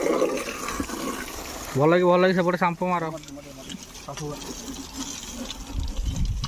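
Water is poured and splashed over a motorbike while it is washed, a steady gushing wash that runs under loud nearby talk, which briefly rises over it.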